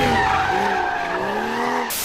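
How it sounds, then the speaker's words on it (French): A rear-wheel-drive car drifts with a loud, sustained tire squeal, its wavering screech sliding in pitch over engine noise before cutting off abruptly. "Tu peux drifter uniquement avec une propulsion"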